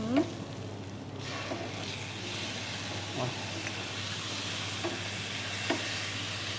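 Red spice paste frying in a pan, a steady close sizzle and hiss with occasional soft stirring scrapes, no talk over it.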